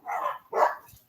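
A single dog barks twice in quick succession somewhere in the background, moderately loud and clear, with a short gap between the two barks.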